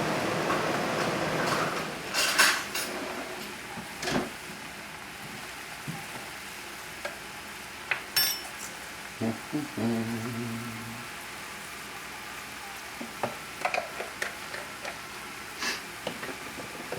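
Mushrooms with cream, sherry and fresh parsley sizzle in a pan, with a soft crackling bed broken by brief stirring scrapes and clinks of the utensil against the pan.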